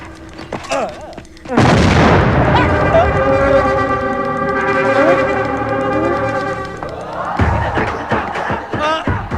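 Comic bomb blasts in a Telugu film scene: a sudden loud boom cuts in and rolls into a long, sustained roar with ringing, musical tones layered over it, then fades into scattered bangs and commotion.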